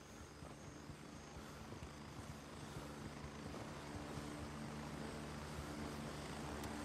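A helicopter arriving in the military shooter video game Gray Zone Warfare, a steady droning rotor and engine noise that holds constant and builds slightly, with no talk.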